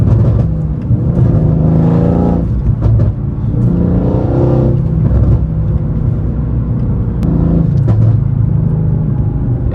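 A Mercedes-AMG fitted with an extra 30 horsepower mod accelerates hard, the engine revving up through several rising pulls with brief dips between gears, loud and close from inside the car.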